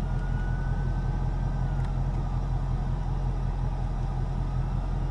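A 2019 Ford Mustang GT Premium cruising on adaptive cruise control, with a steady low engine and road drone continuing evenly throughout and no talking.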